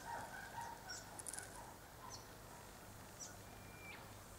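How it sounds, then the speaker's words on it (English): A flock of about a dozen black birds calls under an Aleppo pine tree, giving faint, scattered chirps and squeaky notes over a soft outdoor background hiss. "they sound like apostle birds"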